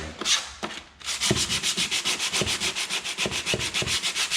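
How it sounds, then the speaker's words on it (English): Fast, even back-and-forth rubbing of sandpaper by hand on a hardwood floor corner, close and continuous, after a couple of brief initial strokes. "And a little hand sanding."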